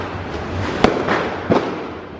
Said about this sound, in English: Probably the best view of the fireworks so far.